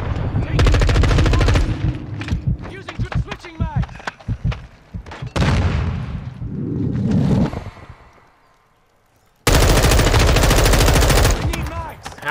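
Bursts of automatic M4 rifle fire in a Call of Duty match, loud rapid volleys at the start and end with scattered shots and game effects in between, under occasional talk.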